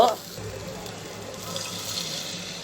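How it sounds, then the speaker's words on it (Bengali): Water is poured into a cooking pan for an eggplant dolma, a steady broadband rush lasting a few seconds after a brief opening sound. "এখন আমি একটু পানি দিয়ে কষিয়ে নিব।"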